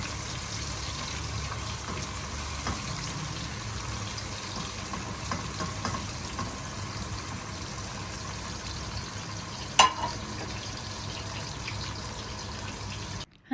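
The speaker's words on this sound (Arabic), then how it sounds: "هنشوحهم بقى كده شوية." Raisins sautéing in a pot for a quick rice dish, a steady close sizzle and hiss throughout, with one brief clatter near the end.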